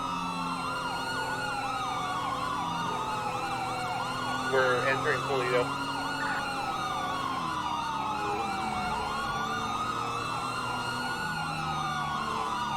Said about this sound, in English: I'm gonna have to switch out my siren packs, guy. This one's way too loud.